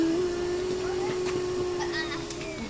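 A Henry Hoover vacuum cleaner runs steadily while a car is cleaned, a constant close motor whine with a sustained tone, and people talk quietly under it.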